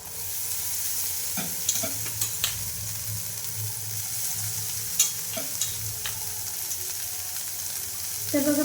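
Paneer sizzling in a pan with chutney for Vidarbha-style paneer bhurji, a steady frying hiss throughout with scattered clinks and scrapes of stirring, no talk.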